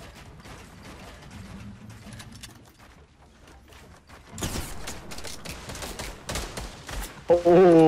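Gunfire in a Fortnite battle royale match: quiet mechanical clicks and scattered shots early on, then a dense, louder burst of rapid firing in the second half, ending in a sharp loud blast.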